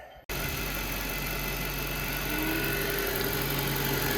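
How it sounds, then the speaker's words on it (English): An Audi A8 D3 engine ticks over at idle after PCV replacement work, a steady, even hum with faint vibration that holds constant throughout, heard up close with no talking. "Okay, crank the car up, keep an eye on things."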